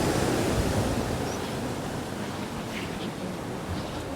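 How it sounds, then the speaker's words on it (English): Fast running water rushing through a cavern, a continuous hissing torrent heard at moderate level with a faint airy, wind-like texture and no speech over it. "There's a lot of fast running water."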